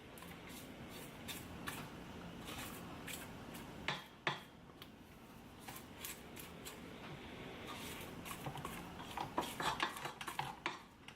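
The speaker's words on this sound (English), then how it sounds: "Drop down our bowl and just scrape the sides." Spatula scraping the sides of a mixing bowl of peach cobbler batter, a steady run of soft scrapes and clinks across the whole stretch with no talking.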